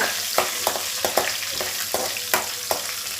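Curry leaves sizzle and crackle in hot oil for vegetable cashew upma, a steady frying hiss punctuated by regular stirring clicks close by.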